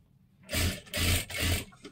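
A sewing machine runs double stitching on a blouse in three quick close bursts of mechanical whirring within about two seconds.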